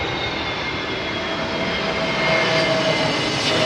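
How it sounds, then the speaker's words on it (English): An Airbus A321neo or A320neo airliner arrives at Heathrow on a windy day, its engines giving a loud, steady roar with a thin whine that swells slightly toward the end, with no voices. "A321 Neo, I think, or 320 Neo, possibly."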